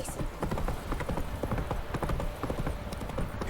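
Horse hooves clip-clop steadily and up close in The Witcher 3, a dense continuous rhythm of hoof strikes with a faint voice mixed in.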